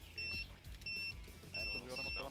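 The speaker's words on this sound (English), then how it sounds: "Someone's beeping." Repeated electronic beeps from an explosive collar in a battle royale video game, four bursts of steady high tones in an on-off rhythm, mixed with game noise and people talking.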